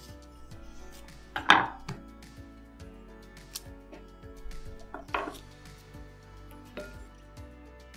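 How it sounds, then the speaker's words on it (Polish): A knife cutting plums on a board, quiet taps and soft cuts with two sharper louder knocks near the start and middle, close and alone without talk. "Śliwki kroimy, a pestki wyrzucamy."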